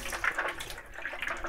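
Water splashing and trickling over a wet collodion photographic plate during rinsing in a mobile darkroom, a close, bright, uneven spatter with small surges and dips, heard alone without speech.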